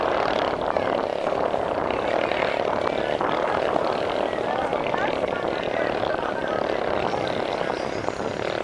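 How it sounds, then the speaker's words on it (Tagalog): Racing outrigger boat (bancarera) engine roars loudly and steadily through the whole stretch at a Darong Eid'l Fitr boat race, a constant dense drone with crowd and commentary noise mixed in. "Napakalakas ng tambotso."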